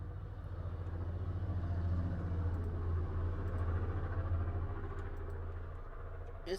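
A car from the video game Project Zomboid passes nearby, a steady low engine rumble with a faint rhythmic throb, holding at constant loudness throughout without clear approach or fade, no talking over it.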